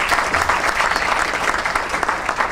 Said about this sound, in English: how about a round of applause for our folks who put this together for us